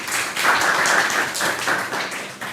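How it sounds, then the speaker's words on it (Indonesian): A small classroom audience claps for a presenting student group, with loud uneven bursts of hand claps in short waves. "Oke, tepuk tangan untuk kelompok 4 ya."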